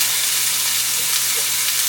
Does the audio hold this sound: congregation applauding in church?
no